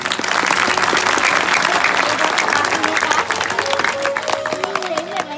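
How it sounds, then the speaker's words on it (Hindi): A crowd at a village comedy Ramayana stage performance breaks into loud, sustained applause, dense clapping that continues steadily and tapers slightly near the end. "हर गांव पर जोरदार ताली हो जाए।"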